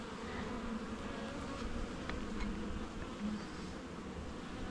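Bees drone steadily and close at an open nuc hive during an inspection, a continuous dense buzz with a few individual insects whining past.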